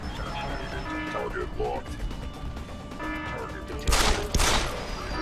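Rockets fire and explode in the video game Deus Ex: Human Revolution, with a couple of sharp bursts near the end over a busy background of game noise and talk.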